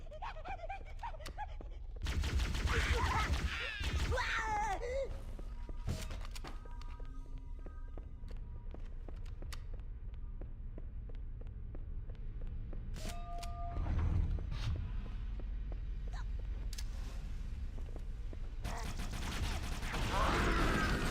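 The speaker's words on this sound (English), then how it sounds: "I threw a grenade and then started firing him" Video game gunfire and an exploding grenade. Loud bursts of shots come first, then a sustained din of combat noise.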